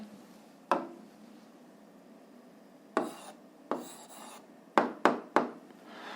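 An answer is written out during an eighth-grade physics lesson, heard as a few quiet, sharp scratchy strokes spaced irregularly over near silence, with a quick cluster of strokes near the end.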